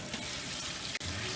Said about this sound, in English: I'm just gonna rinse that through